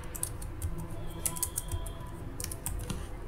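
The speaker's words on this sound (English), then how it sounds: "So I will type XLOOKUP again." Quick, uneven keystrokes on a computer keyboard as a spreadsheet formula is entered, soft clicks close by over a quiet room background.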